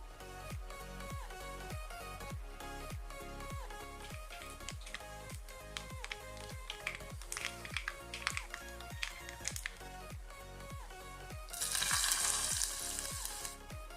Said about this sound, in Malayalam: 2 ടേബിൾ സ്പൂൺ വെളിച്ചെണ്ണ ഒഴിച്ച് ചൂടാകുമ്പോൾ അതിലേക്ക് 1 ടീസ്പൂൺ കടുകും 3-4 വറ്റൽമുളകും ആവശ്യത്തിന് കറിവേപ്പിലയും കൂടെ ചേർത്തിട്ട് കടുക് താളിച്ചെടുക്കാം.